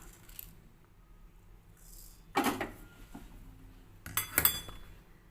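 Dishes and cutlery clink as fried food is lifted into a bowl and onto a plate. Two sharp, close bursts of metallic and ceramic clatter stand out over a quiet kitchen background.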